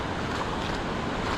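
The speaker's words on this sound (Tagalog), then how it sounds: "Grabe pa rin yung gulong ng alon dito" Strong sea waves roll and churn along a rocky shore at a fishing spot, a steady broadband wash with wind rumble, continuous and fairly loud with no distinct breaks.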